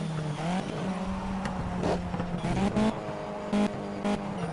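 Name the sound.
race car braking hard in Project CARS video game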